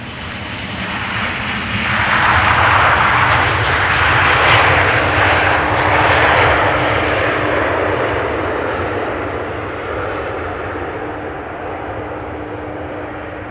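A KLM Boeing 737-800 arriving from Geneva at Amsterdam Schiphol roars past as a loud, steady jet engine rumble that swells and slowly fades, heard continuously with no voices.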